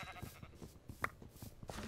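A cow in the video game Minecraft gives a few brief, faint lowing calls amid quiet game sounds, with no talking.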